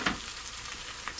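Tomatillos and chiles frying in hot oil for a Mexican green beef stew, a steady close sizzle with a brief louder crackle as they hit the pan, then continuous hissing frying without talk.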